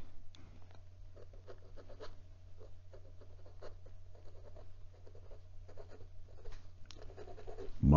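A Monteverde Monza fountain pen with an OmniFlex steel nib scratches across Clairefontaine 90 gsm paper, close and crisp, in bursts of short strokes and scribbles with brief pauses, under a low steady hum and no voices.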